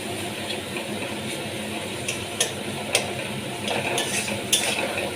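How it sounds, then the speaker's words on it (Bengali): Spice paste for a jackfruit curry cooking in a pan, a steady soft sizzle with scattered metallic clicks and scrapes of a spatula or spoon against the pan, close and without talk. "মশলাটা ভালো করে কষানো হয়ে যাচ্ছে"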